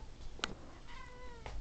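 A single short, soft meow from a nearby cat amid quiet room background, with a faint click just before it.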